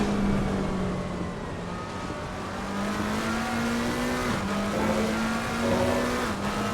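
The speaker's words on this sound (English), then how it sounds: "Come down to the hairpin, hard on the brakes." A GT3 race car in Assetto Corsa Competizione brakes hard into a hairpin, its steady engine drone dropping in pitch with a brief downshift blip and a faint tire squeal near the end, with no voices.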